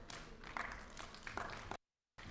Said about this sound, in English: we put our hands together for a very big applause